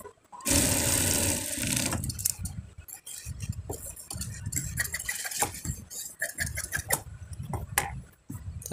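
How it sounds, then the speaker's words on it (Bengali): An electric sewing machine stitches the cuff of a child's kabli panjabi, starting with a loud close whir burst, then shorter runs of stitching mixed with clicks and handling of fabric and parts. "কপটা প্রথমে মুখটা সেলাই দিয়ে দিতে হবে, দুই সাইডে দুইটা সেলাই দিতে হবে কপের"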